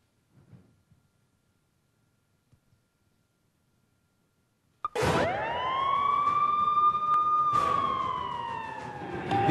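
A cartoon ambulance siren starts abruptly after near silence, a loud wailing tone that rises and then holds steady, with an emergency-vehicle character and a brief hit at the start and again later.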